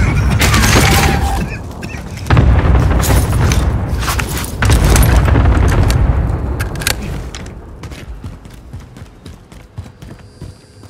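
Video game gunfire from an AX-50 sniper rifle in a battle royale match, heard as loud, booming shots in dense bursts among other weapon fire and explosions, thinning out toward the end.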